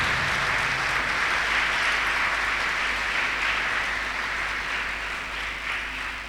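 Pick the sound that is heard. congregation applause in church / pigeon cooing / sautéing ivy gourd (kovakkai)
congregation applause in church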